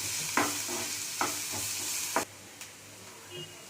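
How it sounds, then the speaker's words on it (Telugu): A chopped medium onion frying in a pan for veg cabbage Manchurian gives a close sizzle with several scraping stirs, then quiets abruptly to a faint hiss with occasional light knocks. "దాన్ని కొంచెం బాగా ఫ్రై చేసుకోవాలి"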